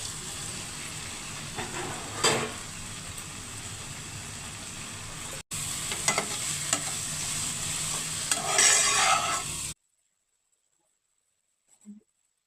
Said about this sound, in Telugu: ఇప్పుడు బెండకాయ ముక్కలు వేస్తుంది